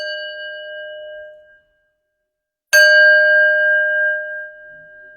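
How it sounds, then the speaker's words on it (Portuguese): A Tibetan singing bell is struck once near the middle, after an earlier ring fades to silence, and its bright, clear tone then hangs and shimmers for several seconds without any talk. "Olha, trouxe até um sino tibetano"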